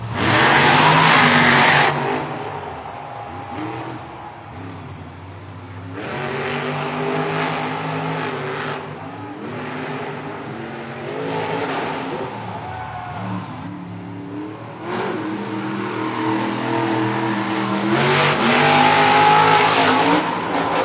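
Monster Jam trucks Black Pearl and Gravedigger race in a stadium in Anaheim, their engines roaring and revving in long, loud surges with tire squeal, rising again toward the end.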